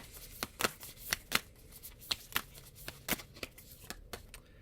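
Animal elder oracle cards being shuffled by hand, a rapid run of crisp riffling bursts and slaps repeating irregularly, close and fairly quiet with no voices.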